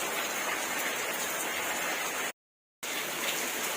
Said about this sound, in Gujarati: પણ જોવો વરસાદ જોવો